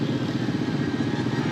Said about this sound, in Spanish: Un caos vehicular increíble.